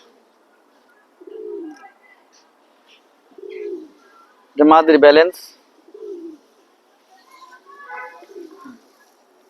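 A pair of racing pigeons gives a few soft, low coos spaced apart in a quiet space, interrupted once by a short loud voice.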